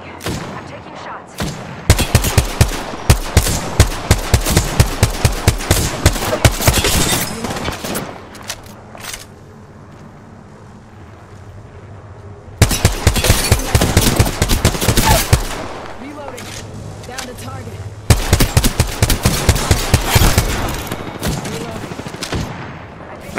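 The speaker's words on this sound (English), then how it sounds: "They spotted me. I'm taking shots." Rapid automatic gunfire in an Apex Legends battle royale fight, with long loud bursts of repeated shots separated by a short lull and then two more sustained volleys, close and dominant with no voices heard.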